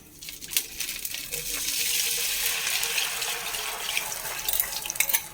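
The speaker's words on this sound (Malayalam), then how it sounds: "മുഴുവനായിട്ട് ഒഴിച്ചു കൊടുക്കാം" Arrowroot mixture for kuva payasam streams steadily into a pot over low heat with a bright, splashing hiss that swells and fades slightly, with a few small clinks.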